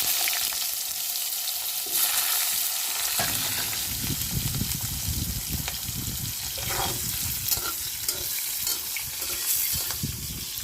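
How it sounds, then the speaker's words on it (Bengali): Cut potatoes frying in a pan give a steady, close, loud sizzle with crackling bursts and occasional stirring, continuous throughout and with no talk over it. "কেটে রাখা আলুগুলো ভেজে নেব"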